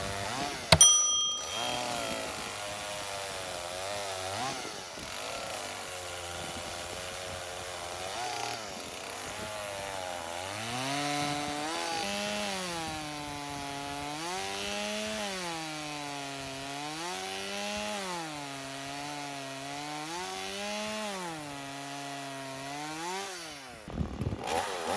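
A chainsaw, a DeWalt DCCS670X1 FlexVolt 60V cordless model, revs up and cuts through wood, its whining motor rising and falling in pitch as the bar bites in and eases off, loud and close for the length of the clip.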